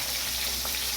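Potatoes and okra frying in plenty of hot oil after a chilli tempering, a continuous bright sizzle with faint stirring, steady and close, no talking.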